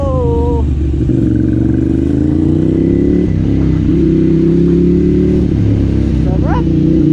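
Yamaha R6 and Ducati Monster 795 sport bikes with full titanium exhaust systems rev loudly and continuously up close, engine pitch rising and falling in repeated throttle blips, while people talk over the roar.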